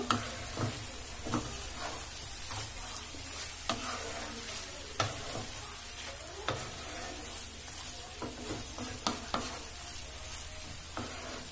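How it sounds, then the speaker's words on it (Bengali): Soya egg roll filling with cheese frying in a pan, a steady soft sizzle broken by repeated scraping clicks as a spoon stirs it at an irregular pace, quiet and close. "ভালো করে নেড়ে নেব।"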